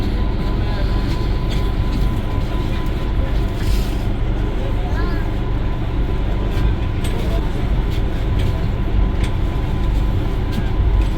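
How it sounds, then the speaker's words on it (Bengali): Midday station ambience at Howrah railway station on a winter afternoon, a steady loud rumble of trains and locomotives such as a WAP5 electric loco, with continuous crowd murmur and announcements blending throughout. "দুপুরবেলার হাওড়া স্টেশন,"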